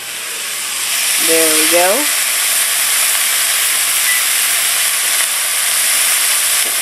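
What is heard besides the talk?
sausages and onions browning in a pan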